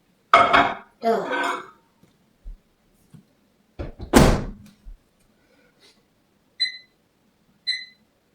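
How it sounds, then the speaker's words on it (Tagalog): Kitchen sounds around a microwave oven: sharp door clunks and clattering dishes come in separated bursts, then two short electronic beeps ring out clearly in a quiet room. "Microwave lang natin ito."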